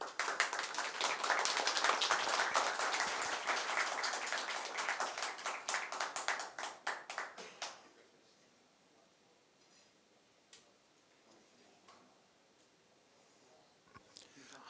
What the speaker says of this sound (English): Another big round of applause for the finalists